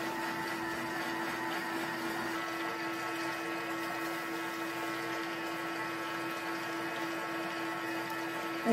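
A kitchen machine cooking pasta at 90 degrees gives a steady, low motor hum with a constant tonal whine and faint churning of water, unchanging throughout.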